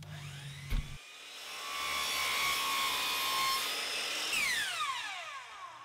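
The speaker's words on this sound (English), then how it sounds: "I'll set the table saw blade at a 45-degree angle and rip 2 pieces of 1/2-inch plywood" Table saw ripping 1/2-inch plywood with the blade tilted to 45 degrees, a sustained whining cut after a brief motor start, steady and fairly loud, then the blade spinning down near the end.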